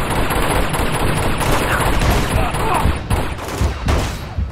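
Dense bursts of automatic gunfire rattle almost continuously in an Uncharted 2: Among Thieves firefight, loud and close, with a few sharper shots breaking through near the end.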